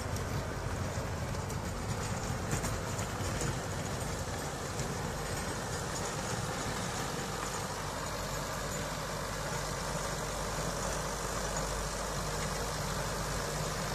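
A Sonalika DI-60 tractor with a four-cylinder inline-pump engine drives a 7-foot Shaktiman rotavator with 48 blades through dusty soil, giving a steady, loud, continuous rumble and churning clatter with no pauses.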